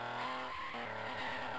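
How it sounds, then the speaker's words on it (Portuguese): Engine of a car in the arcade rally game 1000 Miles Rally revving up, a steady buzzing motor tone with rising, warbling pitch sweeps and a short dip in the middle, loud and close throughout. "Acelera carro"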